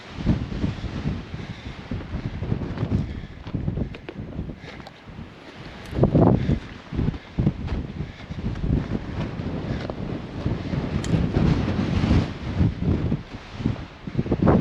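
Wind gusts buffet a hilltop near Picture Canyon, roaring and rumbling against the microphone in uneven surges, with strong peaks around the middle and toward the end.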